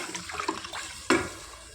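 Water splashes briefly into a cooking pot holding a cup of rice, a short close pour with light clatter before it.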